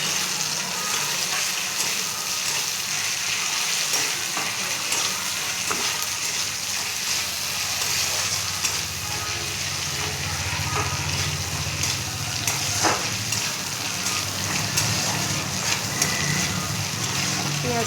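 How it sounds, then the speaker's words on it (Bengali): Onions frying lightly in a pan with oil, for a thin fish curry of singhi catfish with potato and pointed gourd, give a steady close sizzle with occasional stirring scrapes throughout. "পেঁয়াজটা একটু হালকা করে ভেজে নেব।"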